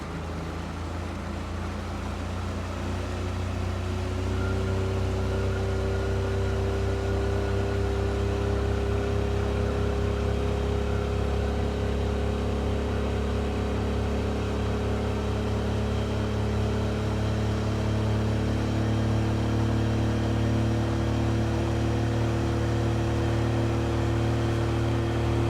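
A 2024 Suzuki DF25A outboard motor runs at wide open throttle, a loud, steady engine drone with strong low harmonics that holds for the whole stretch, rising slightly in level early on as the boat keeps gaining speed.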